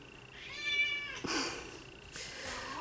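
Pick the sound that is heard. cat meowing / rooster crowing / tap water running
cat meowing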